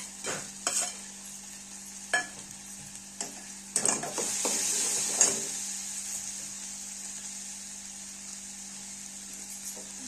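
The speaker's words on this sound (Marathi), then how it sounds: "आता ही बारीक चिरलेलं वाटण टाकूया." Finely ground masala paste goes into a hot pan and is stirred, giving a soft steady sizzle with scattered spoon scrapes and knocks against the pan, a busier burst of stirring in the middle, and a low hum underneath.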